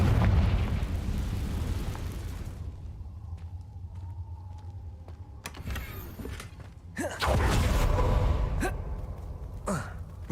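Confringo spell explosion in the video game Hogwarts Legacy: a heavy rumbling blast fading out, then sharp magical crackles and a second booming burst, loud and close.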